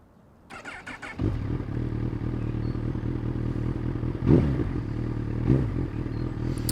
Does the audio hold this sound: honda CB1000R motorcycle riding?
yes